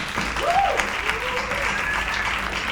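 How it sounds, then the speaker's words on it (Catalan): Studio audience in a Catalan television cooking show bursts into steady, loud applause that fills the whole moment, with a voice briefly heard over it. "un fort aplaudiment."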